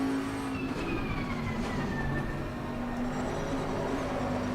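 A race car engine in Assetto Corsa Competizione on PS5 drones steadily, with a sustained hum and a slowly shifting tonal whine at moderate level, without any talk over it.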